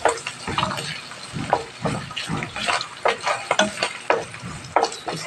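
Onion and garlic fry in a pan for a bitter gourd and glass noodle dish, a steady close sizzle broken by repeated scraping and stirring strokes in an uneven rhythm.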